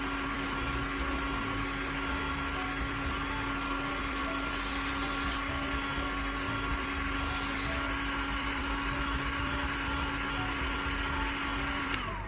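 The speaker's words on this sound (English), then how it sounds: "In the next step, I use a heat gun to heat the plastic pipe." Continuous even whir of a heat gun softening a plastic pipe, a constant close airflow drone with a faint high whine that holds unchanged throughout.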